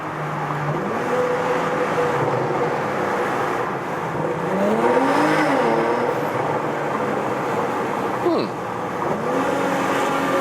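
A Porsche engine revs and accelerates inside a tunnel, with several rising and falling sweeps that echo off the walls. The sound is loud and sustained over road noise.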